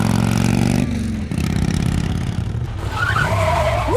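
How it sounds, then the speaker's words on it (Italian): Cartoon vehicle engine from a children's animated rescue show, a steady loud motor drone with a shifting pitch and a brief squealing sweep near the end, alone with no talk. "Sembrava un motore!"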